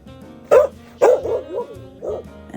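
A small dog meets snow for the first time and barks at it: three or four sharp, loud barks close by, spaced roughly half a second apart, followed by a softer yip.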